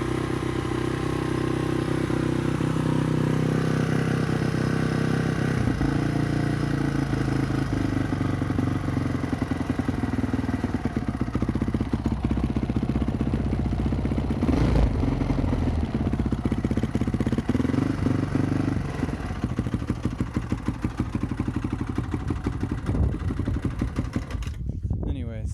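A 2004 Honda CRF 450R dirt bike engine running steadily nearby, a loud, continuous single-cylinder thrum with mechanical clatter throughout, and a voice speaking over it at moments.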